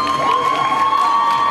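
Crowd of attendees at an anime and geek convention award ceremony cheering and applauding, a loud, steady roar of claps and shouts with a sustained tone running through it.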